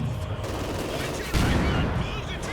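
Dense gunfire in the World War II strategy game Company of Heroes 2, with overlapping rifle and machine-gun bursts forming a continuous loud rattle and a heavier impact partway through, under a voice talking.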